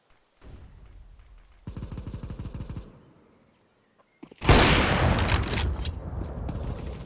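Flashbang grenade in a video game: a soft clatter, then a burst of rapid crackling reports, a short silence, and a loud sharp bang with ringing, hissing decay; no speech.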